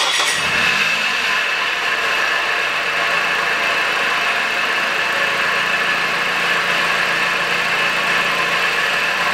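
A 2006 Mazda 3 1.6 with a loose, wobbling drive-belt idler pulley, its engine turning over with a brief start burst then settling into a loud, steady idle heard up close under the bonnet.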